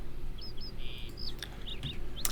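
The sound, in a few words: pigeons at a mailbox in the video game Lord of the Rings Online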